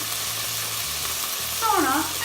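Boiled vegetables frying briefly in a little oil in a soup pot, giving a continuous soft sizzle with a brief louder stir or scrape near the end.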